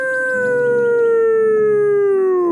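A man imitates a werewolf with a loud, sustained voiced howl that holds a steady pitch for about two and a half seconds, then slides downward and breaks off at the end.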